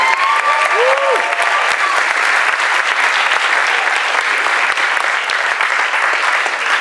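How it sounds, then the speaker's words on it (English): Sustained audience applause fills a startup demo night event, steady and dense throughout, with a brief voice or whistle-like tone near the start. "Let's give all of them a big round of applause."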